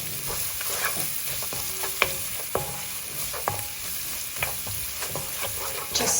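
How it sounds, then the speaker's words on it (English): Chicken madras curry sizzles steadily in a frying pan with tomato puree, a loud continuous hiss broken by sharp clicks and scrapes of stirring. "Look at that, sizzling away, and now I'm going to add 2 tablespoons of tomato puree."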